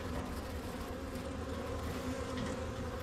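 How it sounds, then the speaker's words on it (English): A steady, droning buzz from a yellow jacket wasp flying around a garden beehive, constant and fairly faint, with no speech. "I definitely don't want to open this with a yellow jacket flying around"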